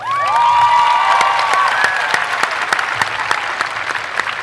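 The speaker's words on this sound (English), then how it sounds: "a nice round of applause, for the president of the senior class" A graduation ceremony crowd greets the senior class president with strong applause, high whistles and cheers rising at the start, then steady clapping that gradually fades.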